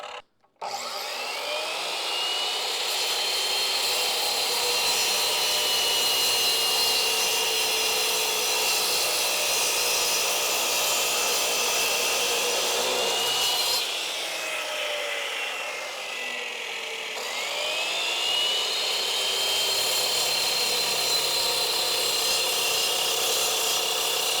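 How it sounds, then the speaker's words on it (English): Evolution Tools concrete saw cutting through landscaping pavers: a loud, steady whining roar running almost continuously, dipping briefly mid-cut before resuming at full strength, with no talk. "So we're going to do a couple more cuts on these landscaping pavers, and it goes through this stuff like butter"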